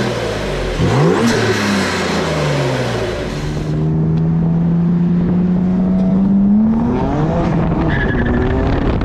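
A BMW M4 engine fitted with a CTS turbo intake revs up loudly and close, with a rising harmonic whine that holds steady, then climbs again with a whooshing intake sound.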